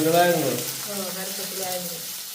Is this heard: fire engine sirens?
no